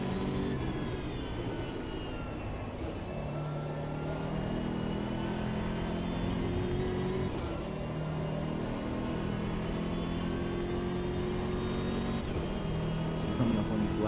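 A BMW M6 GT3 race car in a racing video game holds a steady, loud engine drone for the whole stretch, with sustained engine harmonics that rise and fall slightly as the car works through corners.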